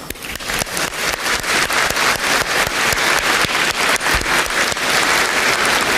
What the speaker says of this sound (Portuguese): uma salva de palmas a todo o Exército Brasileiro